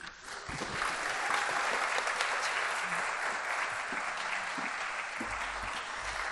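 A crowd at a town hall meeting applauds steadily, a dense wash of clapping that swells quickly and holds for several seconds, with faint cheers mixed in.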